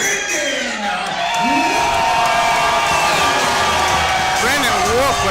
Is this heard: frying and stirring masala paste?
no